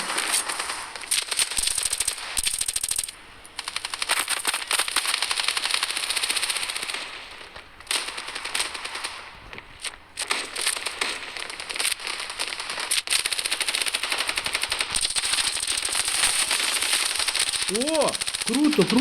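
Rapid bursts of automatic gunfire from a new weapon in the video game Standoff 2, dense repeated cracks with brief pauses, heard alongside an excited voice.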